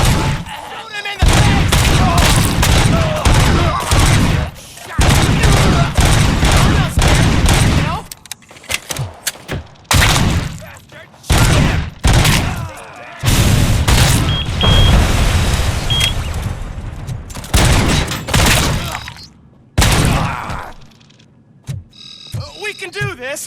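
Gunfire in the Robocop: Rogue City shooter game, with rapid bursts and volleys of loud shots packed close together, broken by short gaps, while voices shout over the action.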